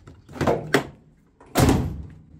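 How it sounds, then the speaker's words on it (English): A Nissan 240sx door under restoration is opened and shut: a couple of soft latch clicks and knocks, then a solid, close thunk as it closes, with no voices. "Door opens and closes."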